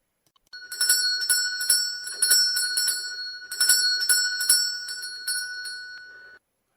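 A hand bell is shaken repeatedly in quick, bright jingling bursts, loud and close, with no voices.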